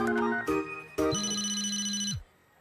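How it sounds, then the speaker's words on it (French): Cartoon phone ringtone: a few short electronic chimes, then a sustained warbling ring with a steady tone underneath, loud and close, lasting about a second before cutting off abruptly. "J'ai cru entendre sonner le téléphone de Ronnie-Anne dans Tipeee."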